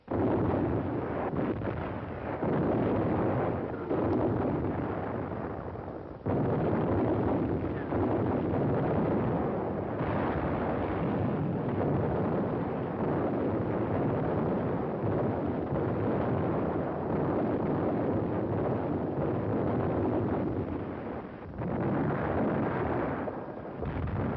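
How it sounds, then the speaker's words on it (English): Long-range artillery shelling in wartime Leningrad, a dense continuous roar of explosions and rumbling blasts lasting throughout, loud and distorted with little break between impacts. "long-range guns hurled ton after ton of high explosives into the heart of the city"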